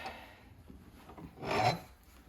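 A Shinto rasp smooths the wooden handle of a no-name boys' axe: a strong, close rasping stroke stands out after a couple of faint scrapes, with no speech.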